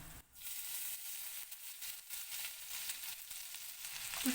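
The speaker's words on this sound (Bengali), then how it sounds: "আদা রসুন জিরেটা আমার বেশ সুন্দর ভাজা হয়ে গেছে" Quiet, even sizzling of crushed ginger and garlic with whole cumin in oil, with a faint scrape near the start and the hiss swelling slightly toward the end.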